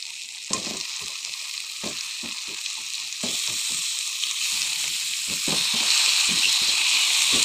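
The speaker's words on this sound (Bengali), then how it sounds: "এখন চিকেনগুলো দিয়ে দেবো।" Chicken pieces go into a spiced masala frying in oil for a homestyle chicken curry, raising a steady broadband sizzle that grows louder over time, with scattered clinks and scraping of stirring throughout and no talking.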